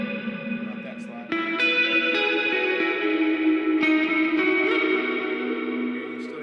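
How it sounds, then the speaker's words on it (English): An electric guitar played through an ambient reverb effect with long decay, sustained chords ringing and washing together in a lush, echoing tail, with a new chord struck partway through and left to hang. "You still hear the reverb."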